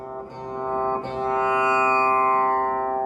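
A single tambura string played without its thread rings out with a clear, steady drone rich in harmonics, struck once and sustaining evenly without the buzzing bloom.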